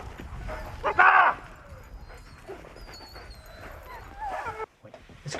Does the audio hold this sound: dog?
yes